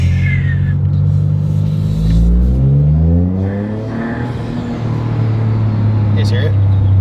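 Turbocharged engine of a Toyota GR Corolla fitted with an MST intake, heard up close as it revs and falls away, with a soft whooshing turbo spool-down under a person talking.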